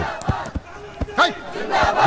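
A crowd in a Telugu film scene bursts into short, overlapping shouts and cries, several loud voices rising close together in quick, agitated outbursts.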